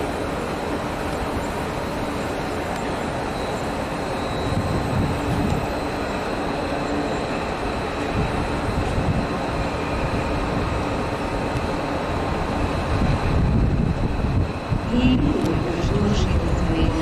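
Train at Budapest-Keleti railway station, a continuous rumbling hum of rolling stock and idling engines filling the hall, with a public address announcement in Hungarian heard over it.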